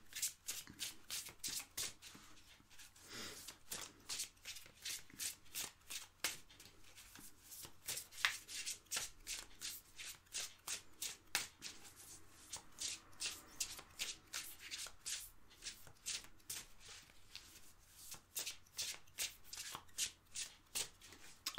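Cards shuffled by hand for a tarot-style card reading, giving a steady run of quick riffling slaps and flutters close to the microphone with no talking.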